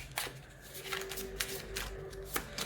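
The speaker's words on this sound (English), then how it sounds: "So I have these astrology cards that I'm going to shuffle, right?" A deck of astrology cards is shuffled by hand up close, making several quick papery riffles and soft slaps spaced through the moment. A faint steady tone sits underneath, and no one speaks.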